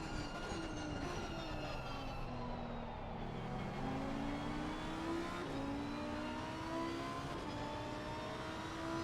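Lamborghini race car engine heard onboard in a racing video game, a steady droning engine tone rising and falling through several gear changes, with other cars audible around it.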